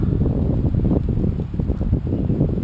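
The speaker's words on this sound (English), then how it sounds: "the wind just keeps blowing it over here" Wind gusting and buffeting a microphone, a low rumbling roar that rises and falls continuously with no voices.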